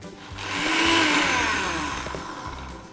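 A blender whirs through butternut squash cake batter with a splash of water added, a loud high-pitched motor whine that swells and eases over a few seconds, heard alone.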